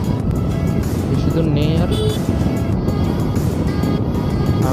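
A TVS Raider 150cc motorcycle being ridden makes a continuous engine drone mixed with wind roar throughout, while a rider talks over it.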